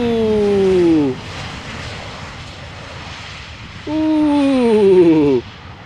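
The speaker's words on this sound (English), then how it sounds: "Check it out, a wheelie from a 737." Boeing 737 jet passing at Amsterdam Schiphol airport, its loud engine whine rising in two separate sweeping passes with a quieter stretch of distant airport rumble between them.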